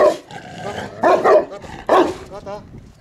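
Dogs bark in a few sharp, close bursts and whimper a little, mixed with people talking nearby.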